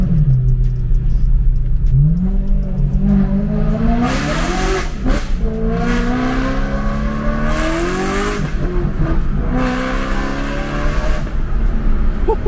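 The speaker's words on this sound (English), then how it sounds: "Those downshifts are deafening." A rear-wheel-drive V8 car accelerates hard with traction control off, its engine revving up through rising sweeps, then crackling loudly through downshifts, close and sustained.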